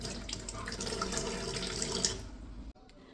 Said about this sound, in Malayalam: മാങ്ങ നന്നായിട്ട് വാഷ് ചെയ്തെടുത്തിട്ട് കട്ട് ചെയ്ത് കഴിക്കുക